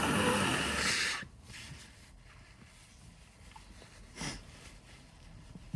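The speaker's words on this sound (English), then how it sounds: "Gotta blow my nose." A person blows their nose with a loud, rough burst of air close to the microphone, followed by a quieter sniff a few seconds later.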